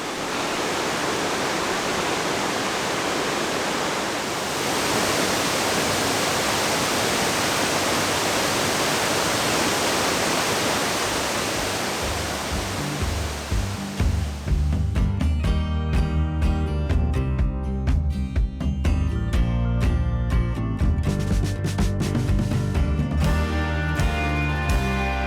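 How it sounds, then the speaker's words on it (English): Waterfall in Canada, a loud continuous broadband rush of falling water for the first half, then overtaken by music for the rest. "I can hear a lot of water moving over in this direction."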